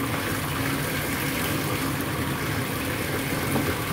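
Water runs steadily into a bathtub for a bubble bath made with LUSH shower jelly, a constant rushing, gushing hiss that fills the room without a break.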